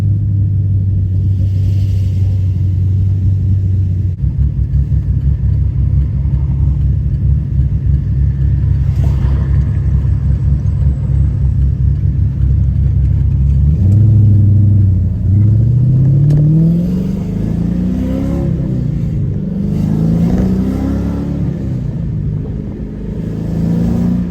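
Fourth-generation Pontiac Trans Am engine under way, a loud, steady low drone while holding a gear, then rising and falling revs as it shifts and accelerates, with no talking.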